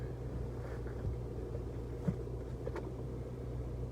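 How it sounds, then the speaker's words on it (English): A car engine idles while warming up, a low, steady rumble with a constant hum, close and unchanging apart from one brief faint knock. "Let my car warm up and I'm out of here."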